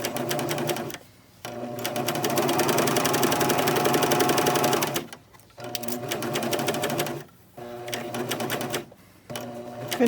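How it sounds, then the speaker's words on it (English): A serger overlock machine sews around the neck hole of a baby bandana bib, running in close, rapid, rattling bursts separated by several brief stops. "Sew along the neck hole, making sure you don't get the extra fabric caught in the seam."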